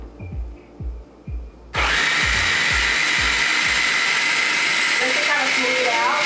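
Food processor running while olive oil is added through the top chute, starting after a series of low thumps and then whirring as a loud, steady motor drone with rising whine near the end.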